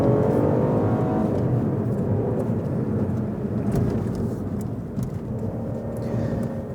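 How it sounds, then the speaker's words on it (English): A 2015 Mini Cooper 1.5 five-door brakes and downshifts into second gear on a British country road, with a steady, fairly loud engine and road drone heard from inside the car and no talk. "Dropping it down. Let's go, let's drop it down. Braking into second."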